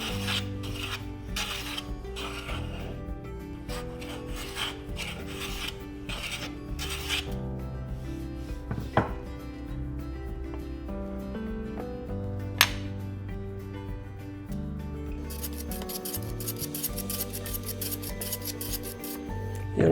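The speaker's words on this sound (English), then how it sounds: "You'll notice I'm planing across the grain here, which is why I'm getting these short shavings" Hand plane shaving wood across the grain on a cutting board: a series of rhythmic rasping strokes, close and fairly quiet, each a brief scraping hiss with short pauses between, plus a couple of sharp clicks.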